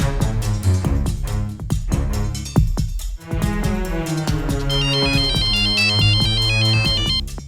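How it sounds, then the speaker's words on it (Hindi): A loud, bright electronic ringtone plays a repeating melodic tune continuously, with rhythmic beats underneath and no voices. "कॉल लगा, लगा कॉल।"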